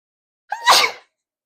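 A single sharp human sneeze, close and loud, bursting out after a brief quick intake and then cutting off into silence.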